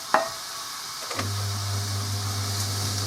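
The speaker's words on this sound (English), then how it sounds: "So just heated that up, and the first bits that we're going to add in is our onions." Onions going into a heated pan, starting with a sharp clatter and then settling into a steady, close sizzle with a low hum running underneath.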